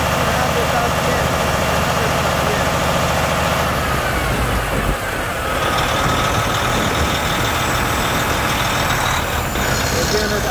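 A 2012 Volvo D13 truck diesel engine runs steadily at 1500 RPM, a loud continuous drone that shifts partway through as the engine settles.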